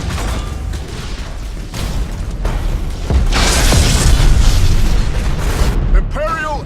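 Space battle explosions from the video game Battlefleet Gothic Armada 2, a loud continuous roar of booms and rumbling blasts swelling midway, with voices speaking over the din.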